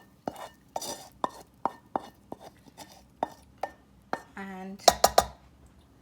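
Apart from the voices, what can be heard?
stirring a mixture into rice in a pot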